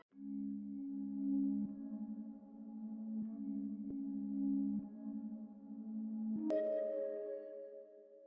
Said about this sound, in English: And the second pad is this Lacuna pad.